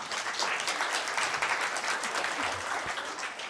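A crowd applauds at the launch of the 2023 Census main report. Dense, continuous clapping from many people fills the room evenly from start to finish.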